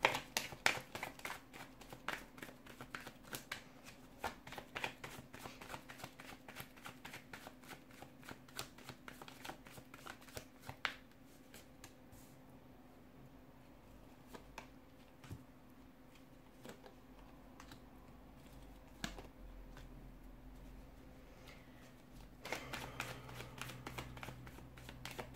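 Tarot cards are shuffled by hand in a quiet room. Soft riffles and papery slaps come in quick bursts, then ease off into lighter taps before picking up again.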